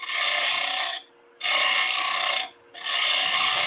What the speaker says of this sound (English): This bowl gouge is a little dull.